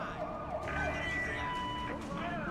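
Police siren in the Silent Hill 2 Remake video game, a steady wailing tone with sweeping pitch, moderately loud over dense game ambience and background sound throughout.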